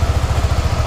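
A Suzuki Gixxer 250 ABS motorcycle engine catches and runs, giving a loud, close, rapid low throbbing pulse with steady even beats throughout the short stretch.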